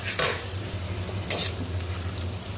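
Onion paste fries in a pan with a steady sizzle, punctuated by a few scraping stirs of a spoon.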